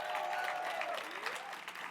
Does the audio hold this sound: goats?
no